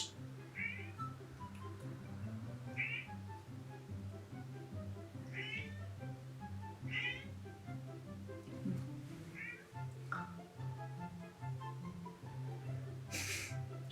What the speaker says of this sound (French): Je sais pas si vous entendez mon chat.